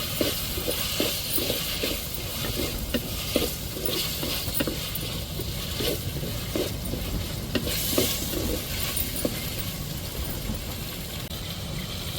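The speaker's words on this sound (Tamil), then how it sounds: "நல்லா பச்சை வடை போட்டுட்டையும் நல்லா வதக்கி விட்டுக்கிடுவோம்." Coriander and green chilies are sautéed in a pan for chicken gravy, with a steady sizzle under rhythmic scraping stirs of a spoon against the pan, close and continuous with no talking.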